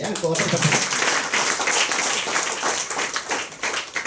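Audience applause at a getting-started program in Chennai, a dense, steady wash of many hands clapping that holds loud for the whole stretch, with faint voices underneath.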